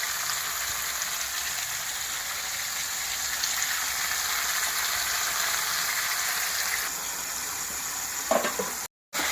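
Steady, dense sizzling of tomatoes frying in a pan, continuous and fairly loud throughout, with a brief soft clatter and a short cut near the end.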